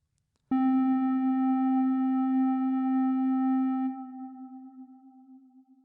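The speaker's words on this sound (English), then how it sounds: "as I hold the key, the line becomes a sine wave." A pure, steady sine tone from a Mynth synthesizer starts abruptly and holds for several seconds, then drops in level and lingers with a slight wavering.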